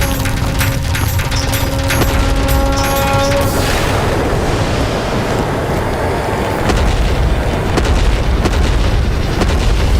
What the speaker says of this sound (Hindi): विस्फोट।